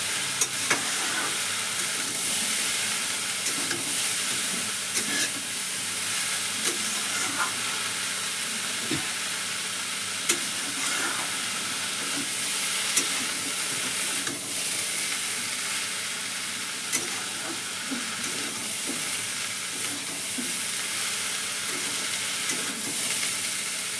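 Cabbage chorchori fries in a pan, giving a continuous, even sizzle with soft intermittent scrapes and clicks of stirring, steady and close for over twenty seconds with no talk.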